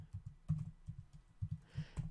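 Keystrokes on a computer keyboard while entering a spreadsheet formula, a quiet irregular run of soft clicks in small bursts, close to the microphone with no talking.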